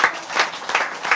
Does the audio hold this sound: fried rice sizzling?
no